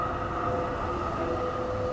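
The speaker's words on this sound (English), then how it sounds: "Here's our tram." A tram rolls in through a city, a steady rumbling drone with a faint high whine from the wheels, moderately loud and continuous.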